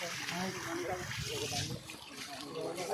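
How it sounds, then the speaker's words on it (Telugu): Water rushes and trickles steadily at a waterfall site, with a broad continuous wash of flow sound and people talking faintly alongside. "ఇక్కడ వాటర్ ఫ్లో అవుతున్నాయి"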